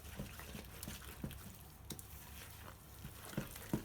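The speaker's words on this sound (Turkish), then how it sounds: "tahta kaşıkla ilk önce sıvı malzemelerimizi şöyle bir karıştıralım" A wooden spoon stirs liquid ingredients for lavash bread dough in a bowl, giving soft, irregular scraping and swishing strokes close by, with a few sharper taps near the end.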